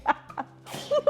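A single sharp sneeze bursts out, close and fairly loud, framed by brief laughter and snickering voices before and after.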